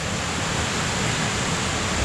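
Water roars steadily at Cachoeira da Porteira waterfall in Amazonas, a dense, loud, unbroken rush filling the space with no voices.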